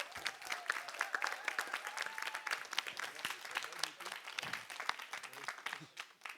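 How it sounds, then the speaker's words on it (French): Steady audience applause from a live French game-show crowd, dense clapping sustained throughout, with some faint voices mixed in. "On les applaudit bien fort,"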